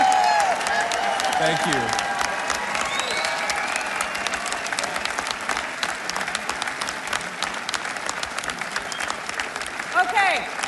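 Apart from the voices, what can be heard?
standing ovation applause from conference audience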